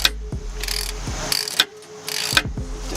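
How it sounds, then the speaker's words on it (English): A ratchet turns a 17 mm socket to loosen a bolt during hub and bearing replacement on a 2016 Nissan Maxima, giving several short bursts of close, crisp clicking separated by brief pauses and a few dull knocks. "You're using a 17 millimeter socket and a ratchet, okay?"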